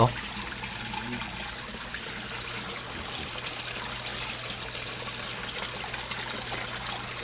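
Water pours and splashes steadily from an Aquaspeed submersible pump into a koi fish pond, a constant close gushing trickle with a faint low hum beneath.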